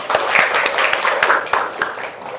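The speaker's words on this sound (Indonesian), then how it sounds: "Oke, tepuk tangan." Classroom applause from students during an English lesson, a short burst of steady, loud clapping close by.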